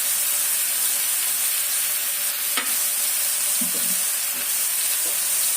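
Mint leaves with curry leaves and coriander sizzle steadily in a hot pan for chutney, a continuous close frying hiss broken by a few soft stirring knocks of the spoon.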